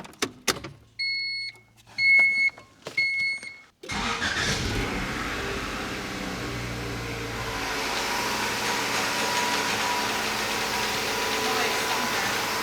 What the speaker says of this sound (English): the engine's running smooth